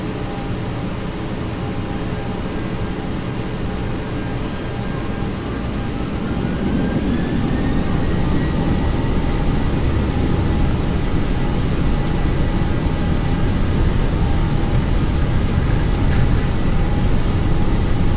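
A Boeing 737 on its takeoff roll in X-Plane 12 makes a steady jet engine roar with broadband rumble that slowly builds louder, plus a rising whine partway through.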